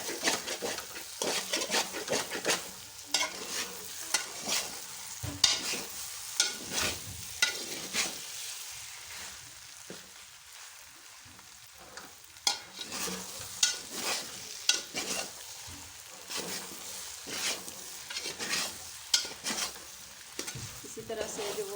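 A spoon scrapes and stirs makhana halwa around a hot pan for a makhana breakfast dish, with steady, repeated strokes and a soft sizzle running underneath, close and moderately loud with no talking.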